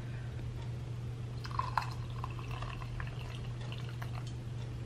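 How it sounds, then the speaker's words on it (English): Hot water poured into a mug to dissolve a pumpkin spice Tea Drops tea, heard as faint trickling and dripping over a steady low background hum. "I'm going to go ahead and pour some hot water into my mug and try it out with you"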